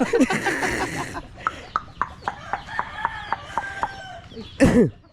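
A hen clucks in a run of short, evenly spaced calls, close by, with a louder squawk near the end and some voices at the start.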